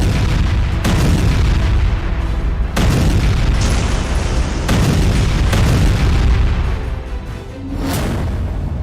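Heavy explosions from Israeli military strikes on Beirut, Lebanon, rumbling loud and continuous with several sharp blasts at intervals, broad booming roar throughout and no speech.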